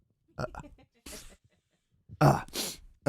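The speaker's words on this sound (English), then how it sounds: "I've got to sneeze." A man breathes in with a few short vocal sounds, then lets out a loud, explosive sneeze close to the microphone.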